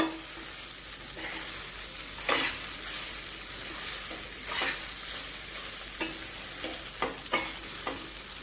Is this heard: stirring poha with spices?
yes